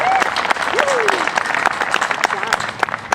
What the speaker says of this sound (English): I want to give Scott a nice round of applause